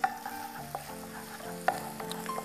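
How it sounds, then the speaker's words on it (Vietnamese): Lemongrass and chili stir-fry in a hot pan with a continuous sizzle, punctuated by a few sharp clinks and scrapes of a utensil against the pan, close and alone without talk. "Bây giờ chúng ta sẽ xào sả và một phần ớt."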